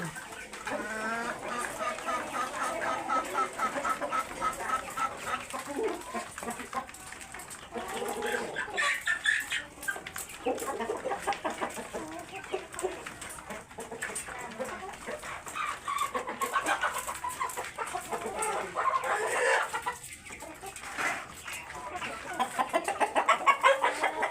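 Pahari chickens on a small farm cluck steadily while pecking at freshly given feed in morning sun, a busy flock of overlapping calls close by, mixed with someone talking throughout.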